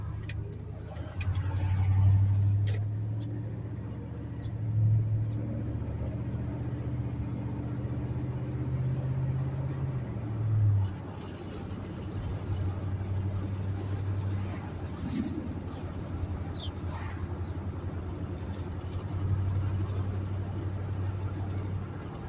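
A Ford F-150 pickup idles steadily while warming up, a low continuous engine hum with faint ticking and occasional louder swells, with brief clicks and light handling noises nearby.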